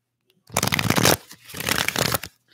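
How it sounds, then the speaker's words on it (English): Tarot cards being shuffled by hand in two close, crisp riffling bursts separated by a short pause. "Let me just shuffle the cards."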